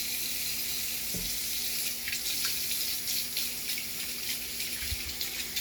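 Water running steadily from a tap into a sink while hands are washed, a continuous hiss with occasional splashes and small knocks, moderately close and without talk.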